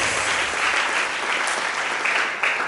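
A church congregation applauds and cheers in acclamation of the Lord during a worship service, steady dense clapping throughout with a few voices rising in the mix.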